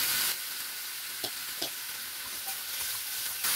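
Steady oil sizzle in a frying pan as curry leaves and chopped tomato are stirred in for pappu charu, a constant bright hiss with a few soft scraping stirs, no voices.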